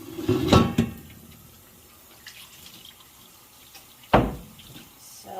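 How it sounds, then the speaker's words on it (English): Milk jars are rinsed under a running tap, giving a muffled splash and a gurgle of water, a quieter spell of trickling, then a second sharper splash near the end. "So what are we going to do to clean this? Just rinsing my jars off."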